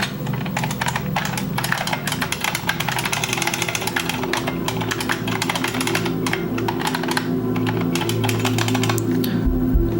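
Continuous computer keyboard typing during a game coding session, a dense stream of close, crisp key clicks over a low steady background hum, with no talking.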